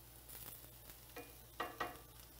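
Onions frying in a pan, a steady low sizzle broken by a few scraping strokes of a spoon as they are stirred, close and alone without any talking.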